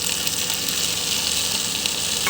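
Tomatoes fry in hot oil with pepper, garlic and ginger as the base for a chicken curry, giving a loud, steady sizzle that runs without a break and stays close, with no voices.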